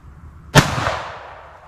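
A single sharp black powder revolver shot, loud and close, with a sudden blast followed by a lingering, decaying rumble and no voices.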